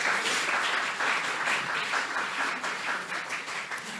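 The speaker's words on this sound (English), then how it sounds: "So let's give her a round of applause for that." An audience at a Black fine art month salon talk in a history museum breaks into steady, dense applause, a continuous wash of many hands clapping that holds for several seconds.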